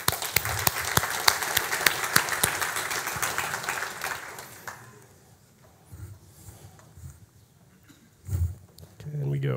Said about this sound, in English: Can we do a round of applause for them again for planning this?